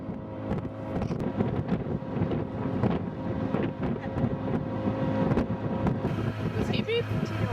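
Steady rushing wind buffets the microphone while a sailing boat moves through water in Mali before sunrise, a continuous low roar with faint creaks and splashes throughout.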